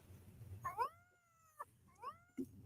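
A cat meows twice, each call a clear rising-then-falling wail about a second long, heard fairly close against a quiet, low background hum.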